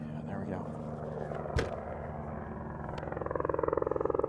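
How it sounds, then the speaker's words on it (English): A helicopter approaches near the border wall at Naco, Arizona, its low engine drone growing steadily until the rapid chopping of the rotor blades pulses clearly by the end, with people talking over it. "I hear an incoming helicopter."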